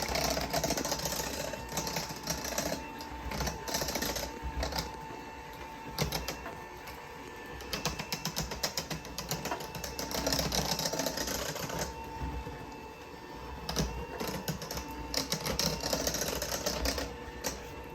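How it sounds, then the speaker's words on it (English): An electric mixer whirs steadily while blending banana pudding mixture, a continuous buzzing motor drone with rattling clicks throughout, fairly close and without talk. "now that I've got it all blended up with the mixer"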